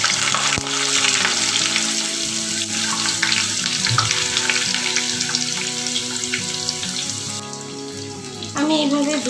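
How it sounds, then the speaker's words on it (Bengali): Stuffed potato boats with cheese and corn frying in hot oil, a loud, continuous bubbling sizzle close up with occasional clinks of a utensil, swelling briefly near the end. "আমি এইভাবে দু পিঠ ভেজে তুলবো।"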